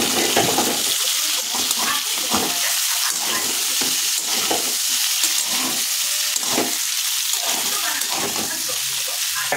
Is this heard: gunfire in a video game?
no